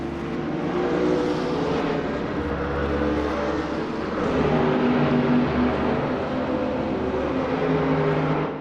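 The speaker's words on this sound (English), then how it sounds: "driving a 2016 BMW M6 GT3. This model is known for its balance and stability on track, featuring a powerful turbocharged engine which allows for strong acceleration." A turbocharged 2016 BMW M6 GT3 race car in a racing video game, its engine note rising and falling steadily through gear changes, a continuous loud drone with no talking.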